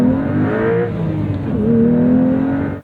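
A 2026 Porsche 911 Carrera T of the 992.2 generation accelerating hard, the engine note rising steadily in pitch through a pull with a brief shift-like dip midway, loud and close before cutting off abruptly.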